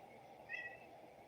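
Faint high-pitched meow from a small kitten, a single brief call around the middle of the clip, heard distantly in the background over a low steady hum.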